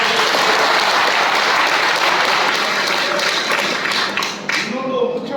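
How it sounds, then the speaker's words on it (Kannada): A crowd at a construction workers' union anniversary gathering claps loudly and steadily, a dense sustained burst of applause that fades slightly toward the end. "ಎಲ್ಲರೂ ಜೋರಾಗಿ ಚಪ್ಪಾಳೆ"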